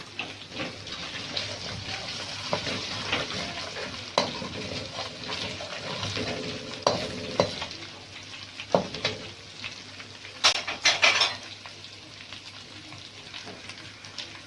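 Curry leaves, cinnamon, black cardamom, cloves and star anise sizzle and crackle steadily in hot oil for a beef kofta curry, with a few sharp spits and clinks of a utensil near the end.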